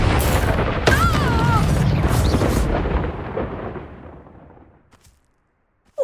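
A Confringo fire spell detonates in the Hogwarts Legacy video game, a loud booming blast whose roar fills the first seconds and then trails off into silence.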